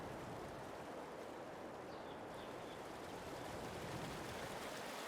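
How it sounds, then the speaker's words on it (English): Waterfalls in the farming game Farming Simulator 22 give a soft, steady rushing hiss of falling water that stays constant and fairly distant throughout. "Waterfalls galore."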